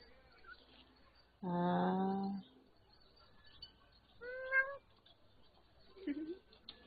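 A human voice imitates a cat with a drawn-out, whiny meow, followed by a shorter second meow and a faint third sound. The meows are clear and close over quiet background noise.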